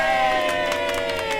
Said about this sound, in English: That applause is for me, because I'm about to answer